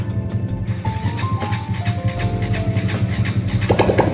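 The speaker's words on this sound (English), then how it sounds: "You can hear the bubbles because there's no exhaust." A Honda Grom motorcycle engine runs with no exhaust fitted, a close, bubbling, uneven idle with a few brief throttle blips rising and falling in pitch.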